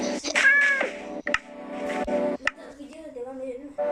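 A cat meows near the start in Minecraft, followed by a few sharp clicks and taps, with people talking throughout.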